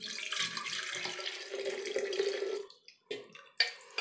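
Homemade pineapple wine mixture with cinnamon and cloves pouring into a jar, a continuous close liquid splashing and gurgling for a few seconds, then trailing off into a few separate drips and splashes.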